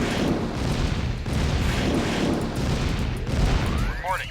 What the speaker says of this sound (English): let's get our destroyers taking out that V2 launcher